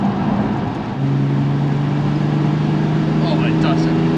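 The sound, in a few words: Ford F100 race truck with swapped Nissan 370Z engine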